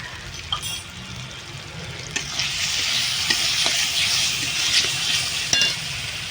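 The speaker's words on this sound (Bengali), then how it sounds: "মশলাটাকে ভালো করে কষিয়ে নেবো।" Spice masala with Kashmiri chilli powder frying in a pan for Bihari chicken, a steady close sizzle with intermittent scraping stirs of a spoon against the pan and no talking.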